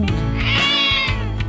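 A cartoon cat lets out one clear, drawn-out meow close up. The call rises and falls over about a second, with no talk around it.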